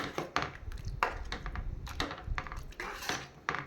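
A spoon stirs tamarind water into a mochai bean curry in a pot, giving close, irregular metallic clinks and scrapes against the pot, with no talking.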